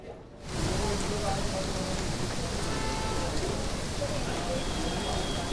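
Heavy rain pouring during a storm in Noida, a dense, steady wash of noise that starts abruptly after a brief quieter moment and keeps going at full strength.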